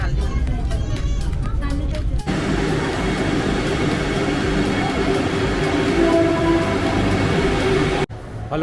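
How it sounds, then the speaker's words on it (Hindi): A Vande Bharat Express train under way gives a loud, constant rumble and rush of wheels and air inside the carriage, unbroken for several seconds and cutting off sharply near the end. "ट्रेन एकदम टाइम से निकल चुकी है"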